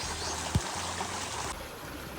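A small water stream beside a hammock in the Philippines, flowing with a steady soft wash and trickle. One faint knock sounds briefly, and there is no talking.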